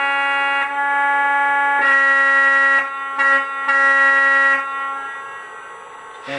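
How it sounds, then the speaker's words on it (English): A Lionel Legacy model of the Milwaukee Road S3 Northern steam locomotive #261 sounds its horn: a loud, reedy chord in several blasts of varied length, then a fading tail. "So here's the horn."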